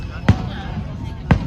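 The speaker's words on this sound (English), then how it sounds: "Let's check out these fireworks." Canada Day fireworks burst twice, each a sharp distant pop about a second apart over a steady crowd murmur outdoors.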